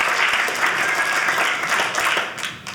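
Audience applause at a comedy show, a loud wash of many hands clapping together that holds steady, then begins to thin slightly toward the end.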